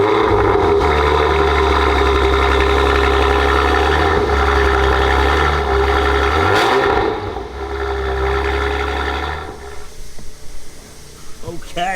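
Porsche Macan GTS with a Stage 2 tune drives along a road, its engine a loud, steady drone with strong low-frequency rumble that shifts in pitch midway and eases toward the end; speech is present.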